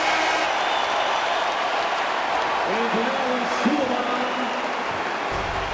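Arena crowd at a Maryland at Wisconsin college basketball game keeps up a steady roar of applause and cheering, with a commentator's voice running over it.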